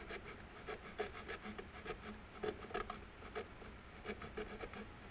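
Very fine-tooth hand saw with a small kerf cutting slowly through a workpiece for a Luger carbine stock, giving soft, quiet rasping strokes in an irregular back-and-forth rhythm, close and faint with no talk.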